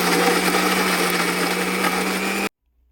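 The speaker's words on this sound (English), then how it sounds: "Time to grind the masala into smooth paste." A kitchen mixer-grinder whirs loudly and continuously, blending chili, tamarind pulp and fish fry masala spices into a smooth paste, then cuts off abruptly into silence.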